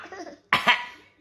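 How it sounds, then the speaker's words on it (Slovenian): A sick boy coughs once, sharply and close, with a short second burst after it, following a moment of quiet with faint background murmur. "Zdaj pa nehaj kašljati."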